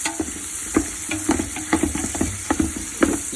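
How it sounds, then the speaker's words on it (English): Bone stock ingredients being stirred in a sizzling pot, with brisk scraping and clattering strokes over a constant close frying hiss. "A gentle stir. Not that gentle though."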